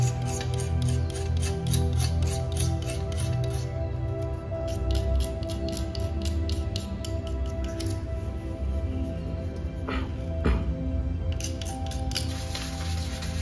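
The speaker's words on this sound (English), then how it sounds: "I use a penknife to scrape off the existing lacquer" A penknife scrapes old lacquer off the wooden rim of a classic Nardi steering wheel, a continuous close rasping with a rapid repeating scratch rhythm and a short sharper scrape near the end.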